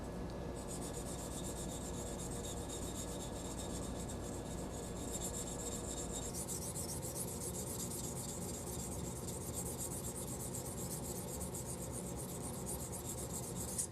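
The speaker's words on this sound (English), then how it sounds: "The reason why I'm using a stone and not sandpaper is because stones are so much better at getting crisp lines." A sharpening stone rubbed back and forth along the facets of a Damascus kitchen sword blade, a continuous close, dry rasping scrape that keeps an even rhythm throughout with no voices.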